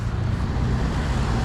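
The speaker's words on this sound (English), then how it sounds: "Let this traffic get by." Road traffic passes by on a rural road as a steady, close rumble with wind noise, continuous throughout with no voices.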